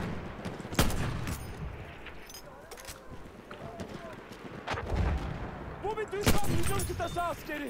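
Martini-Henry rifle fire in Battlefield 1: a few sharp, isolated gunshots spaced seconds apart over distant battlefield rumble, with someone talking intermittently between shots.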